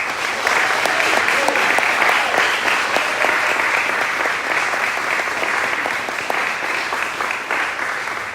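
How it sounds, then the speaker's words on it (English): Audience applause for newly inducted National Honor Society members at a school induction ceremony, a dense, steady round of clapping from a large crowd that stays loud and even throughout. "please give our new inductees one final round of applause"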